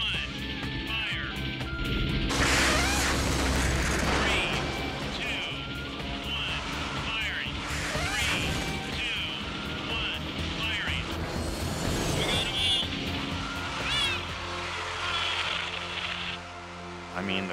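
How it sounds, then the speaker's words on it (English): A rocket-powered car fires and takes off with a loud, sustained roar that holds steady for over fifteen seconds and rises to peaks, with people talking over it throughout. "this was a car with a rocket on it"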